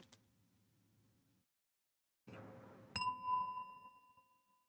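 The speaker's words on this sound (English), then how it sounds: "So, listening to the bell." A meditation bell is struck once and rings out clearly, its bright tone sustaining and slowly fading in an otherwise quiet room after a soft earlier tap and rustle.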